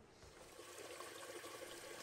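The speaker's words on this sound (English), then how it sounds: "Now we can fill the tank back up and we'll test it out." A toilet tank refilling after a flapper chain repair, a steady broadband rush of running water that stays constant and fairly faint for about two seconds with no voices.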